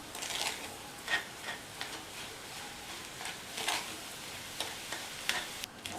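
A spoon stirs brown sugar as it melts into a thick sojji mixture in a pan over low heat, making soft, irregular scrapes and faint sizzling strokes, close and quiet, with no voices.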